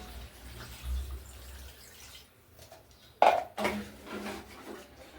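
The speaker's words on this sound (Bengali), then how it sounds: "এখন এই যে পানিটা দিয়ে দিই" Water poured into a pot of braised chicken and potatoes, heard as a soft running splash with a sharper clatter of pot or utensil midway, close by and fairly quiet, with no speech.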